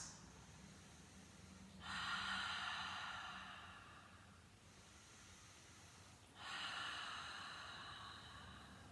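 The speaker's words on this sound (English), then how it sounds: "let's take another 2 deeper breaths." Slow, deep breathing during a gentle yoga session, two long airy inhale-exhale swells separated by quiet, close and soft with no talking.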